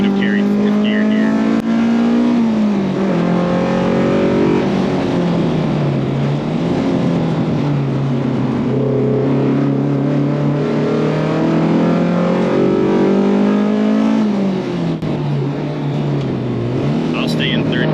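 The engine of a 1989 BMW M3 E30 DTM race car pulls hard in third gear, its pitch climbing and dipping with throttle changes over steady close road and wind noise, with talk over it.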